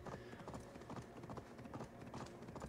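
Horse hooves clip-clopping at a steady riding pace on a road in the video game Assassin's Creed Valhalla, a faint, even rhythm of repeated footfalls with no talking.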